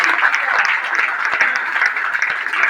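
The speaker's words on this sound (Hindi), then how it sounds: "एक बार जोरदार पहले रंजीत जी के साथ तालियां जोरदार" A crowd applauds steadily, a dense wash of clapping lasting throughout with no pauses.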